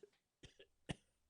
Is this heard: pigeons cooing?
no